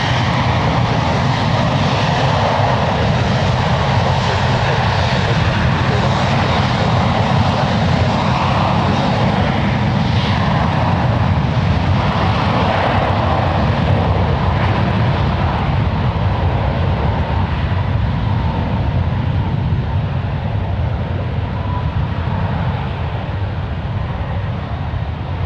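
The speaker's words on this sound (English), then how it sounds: "So, let's get these takeoffs real quick." Airliners take off at San Francisco International Airport, a loud, sustained engine roar that holds for the full stretch and slowly fades at the end, with no talk over it.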